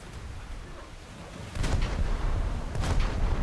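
Naval guns of the Japanese destroyer JDS Ayanami firing in the War Thunder game, heavy booming blasts layered over a steady low rumble, growing louder partway through with repeated distant-sounding reports.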